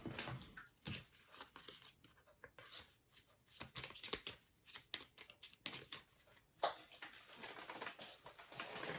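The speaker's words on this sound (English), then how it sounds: "Shuffle these in." Memoir '44 board game cards are shuffled in a series of quick riffling and snapping bursts, close by and fairly quiet, with pauses between handfuls.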